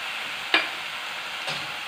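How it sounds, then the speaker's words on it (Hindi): Masala with turmeric being lightly roasted in a pan for a makhana curry gives a soft continuous sizzle, with two brief scraping stirs close by and no talking. "बस हल्का सा भून लेंगे इसको भी साथ ही"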